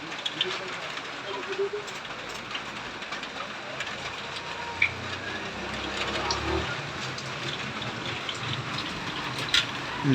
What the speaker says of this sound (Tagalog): Ang lakas pa ng hangin.